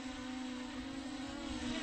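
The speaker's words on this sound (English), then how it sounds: "Very lightweight drone, this one." Propellers of a lightweight SHRC iCamera 2 drone, about 219 grams, buzz in flight on a gloomy day in Perth, a steady loud droning whine that holds throughout with no talk.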